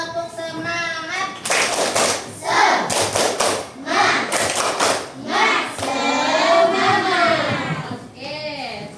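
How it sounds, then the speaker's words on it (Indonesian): A classroom of children does a rhythmic 'tepuk semangat' spirit clap, with several bursts of sharp clapping in patterned groups mixed with children's voices and chanting. "sebelum memulai pembelajaran, kita tepuk semangat dulu"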